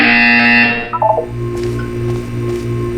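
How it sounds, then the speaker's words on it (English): A loud electronic buzzer in the video game Portal 2 sounds for about a second, followed by a short descending run of beeps and a low steady hum. "You will hear a buzzer. When you hear the buzzer, look up at the ceiling."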